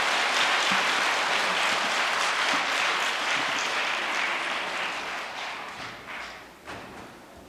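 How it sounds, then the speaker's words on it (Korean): An audience at a New Year's Day prayer gathering applauds an elder chairwoman as she comes to the stage, a dense, sustained round of clapping that thins out and fades near the end. "큰 박수로 환영하겠습니다."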